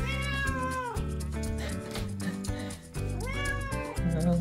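Domestic cat meowing at home in the early morning, three drawn-out, rising-and-falling meows spaced a second or so apart, close and clear with no talk.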